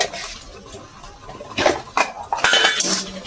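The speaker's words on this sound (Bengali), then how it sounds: "ভালো করে নেড়ে চেড়ে নেব" A spoon scrapes and clinks against a pan while pointed gourd and spices are stirred, the metal knocks growing louder and more frequent toward the end.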